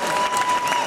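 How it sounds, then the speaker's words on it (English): Brief burst of crowd applause at a tribute concert, a dense spread of clapping from the audience lasting under a second. "Oh, we're giving a round of applause."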